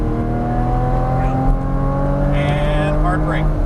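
Porsche Cayman engine pulling hard on a race track, a steady loud drone that climbs in pitch as the throttle is rolled on, with an instructor talking over it.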